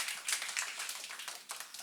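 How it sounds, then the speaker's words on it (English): An audience at a business summit gives a short, scattered round of applause, fairly faint and uneven, with individual claps distinct rather than a full roar. "A round of applause for that answer."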